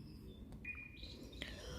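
Small birds chirp faintly outdoors near a lake, a few thin whistled tweets over a soft, steady background hum.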